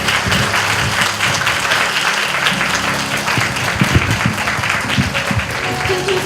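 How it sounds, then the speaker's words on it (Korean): An audience at a lecture hall applauds to welcome a speaker, a dense, steady wash of clapping that stays loud and even from start to finish. "큰 박수로 맞아주십시오."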